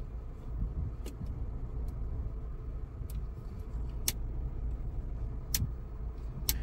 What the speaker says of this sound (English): they have a satisfying click to them when you turn them